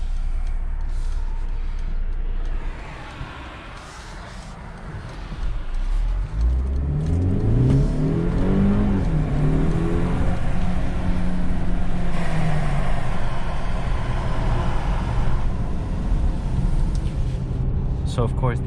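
A 2021 Mercedes GLE 4MATIC SUV's engine revs up and accelerates steadily, its pitch climbing through the gears, with constant road and wind noise from inside the cabin.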